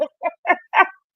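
A rooster crows in four short, rising bursts spaced evenly over about a second, clear and close against silence.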